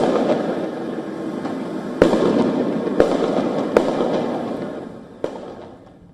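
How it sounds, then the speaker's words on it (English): Distant flash bangs and firecrackers at a Los Angeles protest pop as a few sharp bangs over a steady low rumble of background noise, fading toward the end. "sounds of flash bangs, firecrackers were heard exploding in the distance."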